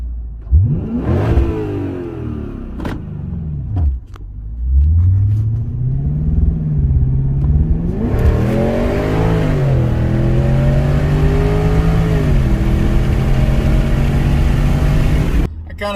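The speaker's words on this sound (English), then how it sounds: "I kind of feel bad for revving at them." A Lexus LS460 engine revs repeatedly, rising and falling in several loud sweeps before settling into a sustained high rev near the end, heard up close with no talking.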